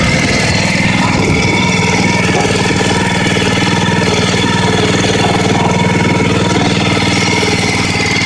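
A 212cc Predator engine on a log splitter idles just above idle speed after the choke is turned off, a loud, close, steady chugging drone throughout.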